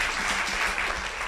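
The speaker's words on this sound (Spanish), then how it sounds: "un aplauso, por favor, para el doctor." Audience applause at a talk on urban furniture and fab labs, a steady wash of clapping hands filling the room, fairly loud and continuous throughout the short moment.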